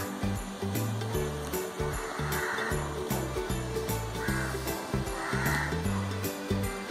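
Water poured into a bottle for a homemade sensory bottle, a continuous splashing gurgle with shifting hollow tones as the level rises, fairly close and steady throughout.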